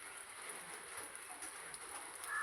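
Steady rain falling on garden plants, a soft, even hiss of drops spread evenly throughout, fairly quiet, with no voices.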